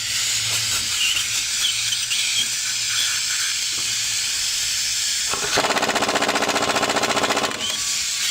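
Pneumatic air impact wrench hammering on the front brakes of a Chevy Silverado, with hissing air first, then a loud rapid rattling burst of about two seconds, close by and with no talking.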